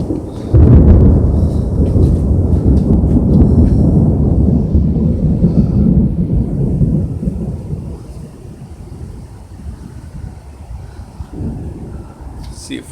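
Thunder rolls during a rainstorm as a long loud low rumble, mixed with wind buffeting the microphone and steady rain, then fades to a quieter rainy wash for the last several seconds.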